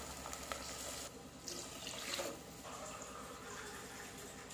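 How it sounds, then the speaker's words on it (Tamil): Three glasses of water poured into a cooking pot ahead of adding basmati rice for ghee rice: a faint, steady stream of running water with a brief louder gush midway, no talking. "இப்போ 3 கிளாஸ் தண்ணி சேர்க்க போகிறேன்."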